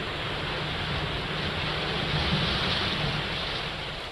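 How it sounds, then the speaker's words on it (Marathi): A waterfall at Shivthar Ghal near Mahad in Raigad district, swollen after heavy monsoon rain, gives a continuous loud roar that stays steady throughout with no voices. "महाडमधल्या शिवथर घळ येथे धबधब्याचं रौद्र रूप पाहायला मिळत आहे"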